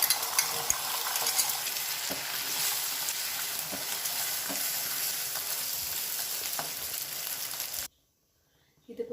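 Egg noodles fry in hot oil in a pan for street-style spicy noodles, giving a loud, steady, close sizzle with faint stirring clicks that cuts off abruptly into near silence at the very end.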